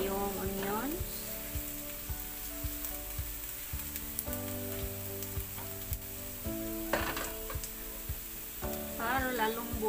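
Onions sautéing in a pan for a crab dish cooked with fresh coconut milk, a steady sizzle and frying hiss running throughout under background music, with occasional stirring scrapes.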